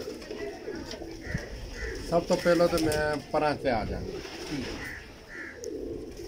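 Pigeons coo softly in the background in Lahore as someone talks close up about pigeon breeds, their low rolling calls recurring between and under his speech.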